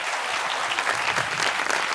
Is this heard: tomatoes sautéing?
no